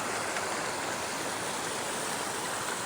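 A shallow stream flows steadily in a continuous broadband wash, fairly quiet and without breaks.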